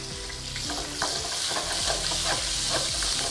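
Green chillies fry in a pan over a lowered flame for bhindi masala, a constant close sizzle broken by rhythmic scrapes and clinks of a spoon stirring.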